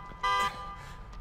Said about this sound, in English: I feel like all that alarm is gonna like it's going to attract them